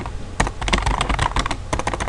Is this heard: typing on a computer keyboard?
yes